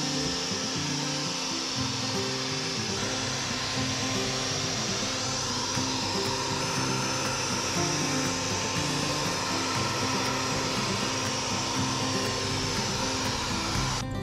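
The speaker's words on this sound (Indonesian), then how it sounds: "Dan biasanya sebelum gue vakum lantai, gue vakum dulu daerah-daerah yang bukan lantai." A cordless Dyson OmniGlide vacuum cleaner runs indoors with a continuous, close, airy whine and hum, steady throughout with no talking.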